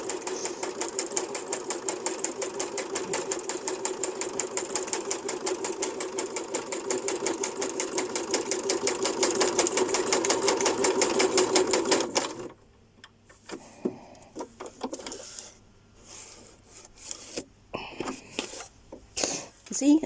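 A sewing machine stitches through cardboard in a fast, steady mechanical rattle for about twelve seconds, then stops, leaving sparse clicks and handling noises.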